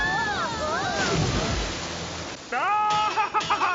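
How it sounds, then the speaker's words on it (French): A rushing waterfall roars in a French-dubbed Sonic cartoon, a broad wash of noise that swells in the middle while cartoon voices and whistling effects sound before and after it. "Regardez, il y a une cascade et on fonce droit sur elle."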